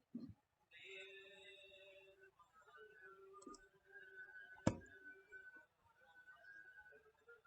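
A single sharp computer mouse click stands out midway through the clip, set over faint, steady background tones and a low murmur.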